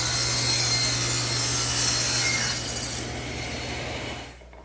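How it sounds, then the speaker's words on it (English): A table saw with its blade tilted to 45 degrees rips through a wooden table leg, a loud, steady whining roar over a low motor hum that eases off near the end and stops. "all I'm going to use is the table saw. I've tilted the blade to 45 degrees"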